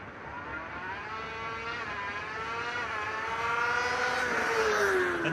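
A Formula Student race car at a competition makes an acceleration run, its engine whine climbing steadily in pitch through the gears and growing louder, heard from a distance with no talking.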